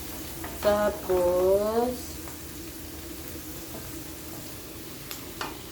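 Onions hit a hot pan for an adobo of chicken liver and gizzard, giving a soft, steady sizzle that continues after a brief voice at the start.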